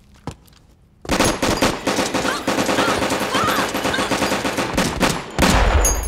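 Gunfire in the video game Metal Gear Solid 4: Guns of the Patriots, a loud, sustained burst of rapid shots after a brief quiet start, with a heavier blast near the end.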